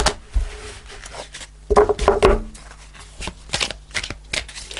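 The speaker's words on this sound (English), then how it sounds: "I'm going to pull a fairy card to end the reading" A deck of fairy oracle cards is shuffled by hand during a tarot reading, giving close, papery riffles and soft flicks in uneven bursts, with no talk.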